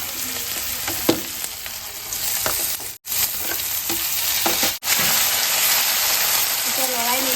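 Tomatoes frying with spices in a pan give a loud, steady sizzle with occasional stirring scrapes, heard close, while a voice speaks briefly over the cooking.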